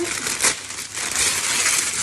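Baking paper crinkles and crumples loudly and close by in a few quick bursts of rustling, with no talking.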